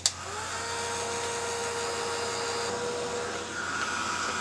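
A heat tool warms a snow globe topper from below, blowing with a steady, continuous hiss and whine from start to finish after a brief click at switch-on, with no speech.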